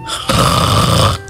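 A human voice imitates rhonchi, the coarse snoring-like lung sound heard in chest disease, producing one loud, sustained rattling snore about a second long, close and alone.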